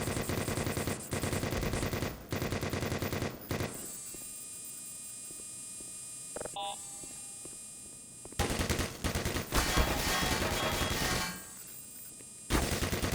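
In the video game Black Mesa, a player fires at headcrabs with loud bursts of rapid automatic gunfire near the start and end, broken by a quieter humming stretch with a few isolated shots.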